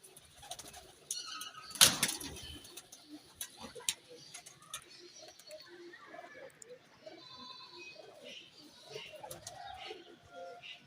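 Pigeons on a rooftop during pigeon-flying preparation, soft cooing and wing flutters with a sharp flap burst early on, mixed with faint background voices.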